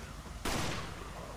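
In Resident Evil 5, a single loud gunshot, likely from a magnum, cracks out abruptly and leaves a sharp report ringing over faint game background sound.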